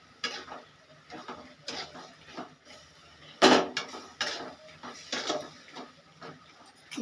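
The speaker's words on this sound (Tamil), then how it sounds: "நல்லா வதக்கி விட்டுக்கோங்க." Ingredients for a Nagercoil fish curry are sautéed and stirred in a pan, giving close, irregular scraping and clinks of a utensil against metal with brief sharper knocks between them.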